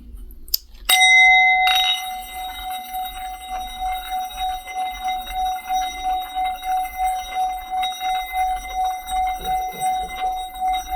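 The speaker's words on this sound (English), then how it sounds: "I also want to do the bell today." A single bell is struck once and rings out with a clear, sustained metallic tone that slowly fades over about ten seconds, heard close up in a quiet room.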